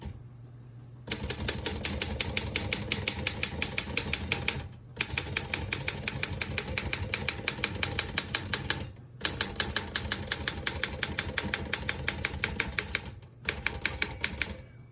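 Rapid, steady clacking of keys on a 1926 Royal 10 desktop typewriter, loud and close, in three long bursts separated by brief pauses.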